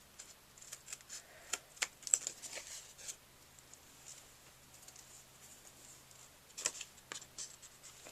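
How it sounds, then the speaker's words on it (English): Faint, sparse snips of scissors cutting off excess material, scattered irregularly in a quiet room, with light tapping and handling noises between them. "I'm going to take my scissors"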